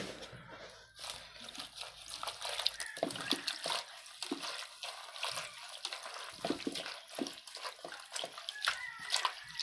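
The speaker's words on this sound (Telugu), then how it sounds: "ప్రస్తుతానికైతే మేము కూరను కడుగుతాము" Wild ulmera kura greens are swished and washed by hand in water in the Araku tribal area: continuous close sloshing, splashing and dripping with no break.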